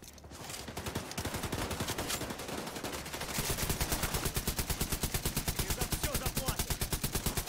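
Sustained machine gun fire in The Division 2 video game, a rapid, steady stream of sharp shots at close range that quickens and grows louder midway, with a voice speaking underneath.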